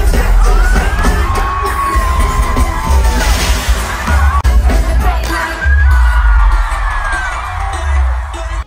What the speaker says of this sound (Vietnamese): bắn pháo hoa đun đun đun đun